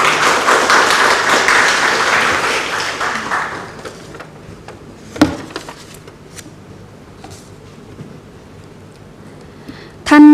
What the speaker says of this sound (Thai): ขอเสียงปรบมือต้อนรับท่านค่ะ